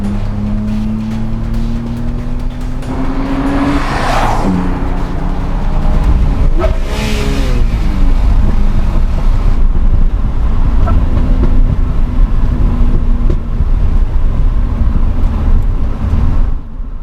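A BMW race car engine on a track during a hot lap, its revs climbing steadily before an upshift, followed by continued loud, close engine roar with no talking.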